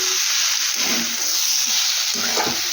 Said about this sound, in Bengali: এখানে একটু আলু ভাজছি, এখন ভাজা কমপ্লিট হয়নি।